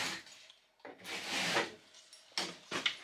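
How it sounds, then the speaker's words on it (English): Utility knife drawn along the paper backing of drywall, several close, dry scraping strokes of varying length with short pauses between them. "You can just take your knife up the backside."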